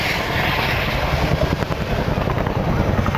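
A military helicopter flies low during an airshow battle demonstration at Cosford in 2008, its rotor and engine making a loud, steady, close thrumming roar that continues throughout.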